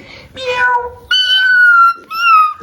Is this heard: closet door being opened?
no